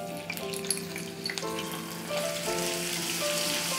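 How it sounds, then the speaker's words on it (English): Ginger garlic paste sautéing in ghee in a kadhai: a dense, close crackling sizzle with a few stirring taps early on, steady and unbroken with no talking. "We just saute this for about 30 seconds till all the garlic and ginger flavor have released"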